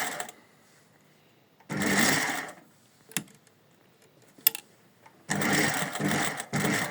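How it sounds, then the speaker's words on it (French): A sewing machine stitching a straight seam, with several bursts of fast mechanical whirring between quiet pauses and a few brief clicks, close and clear with no talking. "Et on est parti, on fait une couture droite."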